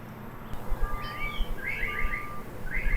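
Wild birds at a seed table give short bright chirps and twittering calls in scattered clusters over faint outdoor background noise.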